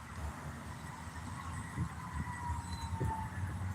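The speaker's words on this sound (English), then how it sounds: "I hear another siren a-coming." A siren approaches from a distance, its faint wavering tone riding over a steady low rumble of traffic or engine noise for nearly four seconds, with no talking.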